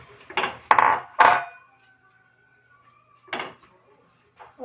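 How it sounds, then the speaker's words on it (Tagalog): Metal cookware clatters close by: a few quick clanks of a pot, then a pause and a softer clunk as a lid settles. "ilalagay na natin ang patatas. Tapos, takpan."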